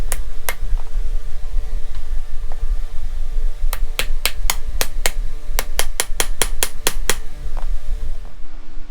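Sharp metallic hammer blows on a Mustang's broken driveshaft yoke and U-joint ring out, a couple early and then a rapid series of evenly spaced strikes, over a low steady hum.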